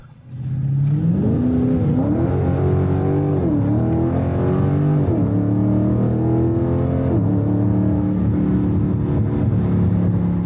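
A Dodge Scat Pack in sport mode revs and accelerates with a loud, close engine roar that climbs through several gear shifts, each upshift dropping the pitch before it rises again.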